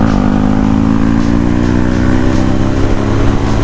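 A Yamaha R15M motorcycle being ridden on the road near Tezpur, a loud steady engine drone with wind rush, close and continuous.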